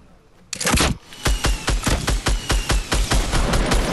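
Video game gunfire rings out loud and close: a dense opening burst followed by steady, rapid automatic shots in a fast, even rhythm, with no voices.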